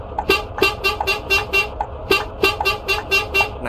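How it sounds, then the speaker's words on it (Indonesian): The stock Scania horn on an Andromeda Reborn bus in Euro Truck Simulator 2 gives about nine short, evenly spaced toots in quick rhythm, loud and close over a faint low engine hum. "unit Andromeda Reborn-nya ini juga tetap mempertahankan klakson original bawaan Scania"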